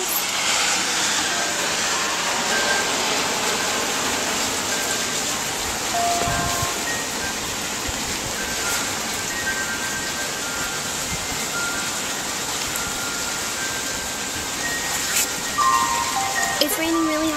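Heavy rain pounds on an umbrella outdoors, a dense steady hiss and patter that runs throughout, fairly loud, with faint tones in the background.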